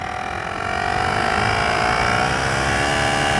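A portable emergency tire inflator screwed onto a tire valve stem runs alone with a steady, loud motorized drone and a fast buzzing pulse, holding constant from start to finish.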